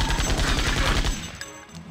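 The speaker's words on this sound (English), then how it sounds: "let's use rifle Gatling." Rifle Gatling attack in the Septerra Core role-playing game, a rapid, steady stream of mechanical gunfire bursts rattling close and loud for about a second before cutting off into quieter battle effects.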